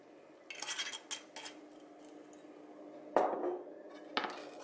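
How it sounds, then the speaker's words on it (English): Onions and red wine vinegar are stirred in a pot for rhubarb chutney. A utensil scrapes and clanks against the pot in a few bursts, with one sharper metallic knock partway through, close by and without speech. "And then I'll just give this a stir. Just separate my onions a bit."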